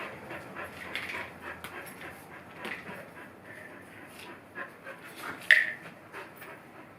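Dogs panting and softly whimpering at feeding time, close and fairly quiet, with brief sharper yips and small movement noises scattered through.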